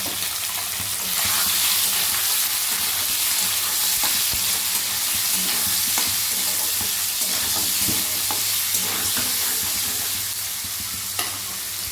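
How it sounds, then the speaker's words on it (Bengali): Boiled soya chunks frying in hot oil in a pan, a steady sizzle with occasional stirring scrapes and clinks, close and continuous throughout with no voices. "এবার ওই তেলেই যে সেদ্ধ করে রাখা সয়াবিনটা সেটা দিয়ে দিই"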